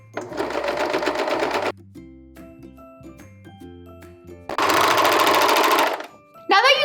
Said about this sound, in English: First, I'm gonna serge together center back.